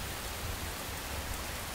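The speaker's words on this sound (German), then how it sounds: "So, jetzt haben die so Regenwetter." Rain falling in the video game Enshrouded, a steady soft hiss of drops with no breaks, fairly quiet and even, no voices.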